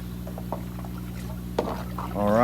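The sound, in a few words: sugar water being poured for compost tea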